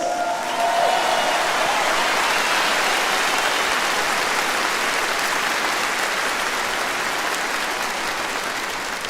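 A large concert audience at a show in São Paulo gives a sustained roar of applause, with thick and continuous clapping that holds loud and steady for about nine seconds, like heavy rain.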